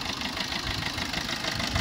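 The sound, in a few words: Maruti Brezza ZDI Plus 2019 diesel engine idling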